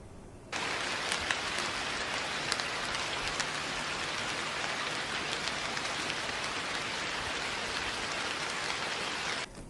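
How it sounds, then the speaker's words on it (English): Steady rain falling on a roof surface, a dense continuous patter with scattered sharper drops, fairly loud and unbroken for the whole stretch with no voices. "Do you want to hear the sound of the rain or the music of the rain?"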